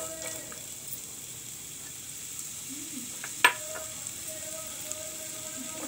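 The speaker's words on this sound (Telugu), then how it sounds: "ఈ బీట్రూట్, క్యాప్సికం ఈ రెండింటిని వేగించుకుందామండి." Beetroot and capsicum fry in oil in a pan, giving a soft, steady low sizzle with one brief clink partway through, quiet and without talk.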